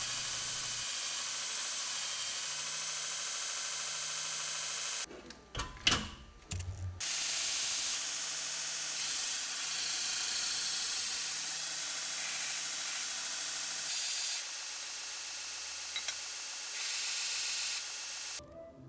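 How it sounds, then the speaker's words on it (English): Belt sander with a fine-grit abrasive belt grinding the rusty jaws of a giant vise, a loud, continuous hissing rasp up close, broken by a brief pause and clunk before the sanding resumes steadily. "I switched to an abrasive belt here with a pretty fine grit, so that I don't accidentally remove too much material"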